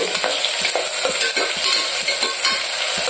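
Chopped onions and green chilies sizzle and crackle steadily in hot oil for a Rayalaseema mutton curry, with a spoon stirring through the pan at regular intervals, close and fairly loud with no talk.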